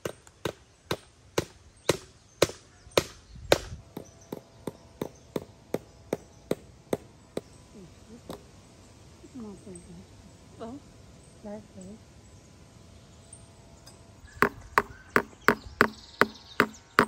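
Hammer strikes on a wooden post while mending a garden vegetable-patch fence on a rural smallholding, sharp regular knocks in a fast steady series, a pause with voices talking, then another quick burst of blows, close and loud.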